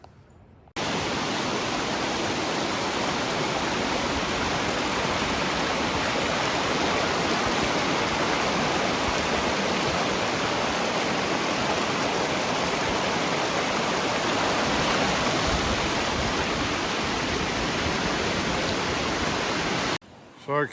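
Steady, loud rush of creek water flowing near Dunsmuir, a continuous broadband roar with no breaks, heard close up and alone.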